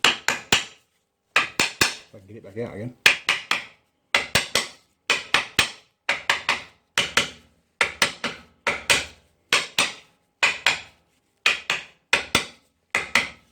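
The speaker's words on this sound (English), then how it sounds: "Well, I reckon that'll hammer in just nicely." Hammer blows driving a machined bush into a motorcycle trailer fitting, about two dozen sharp metallic strikes in quick pairs and triplets with short pauses, close and loud, and someone briefly speaking partway through.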